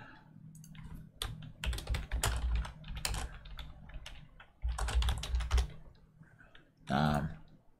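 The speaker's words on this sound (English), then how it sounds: "I hit Z on my keyboard to move it." Bursts of rapid keyboard typing and clicking, close by, with pauses between flurries and a voice briefly heard near the end.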